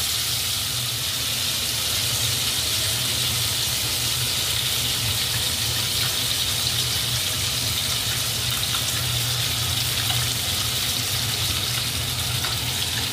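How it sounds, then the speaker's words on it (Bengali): Pieces of katla fish sizzle and crackle steadily in hot oil, a dense, even frying hiss that holds at close range throughout with no talk over it. "মাছগুলো বেশ ভালো করে লাল করে ভেজে নিতে হবে।"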